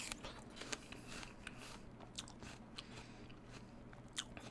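Someone bites and chews a very hard, crunchy apple close up: a series of sharp crisp crunches and wet chewing snaps, fairly faint, with no talking.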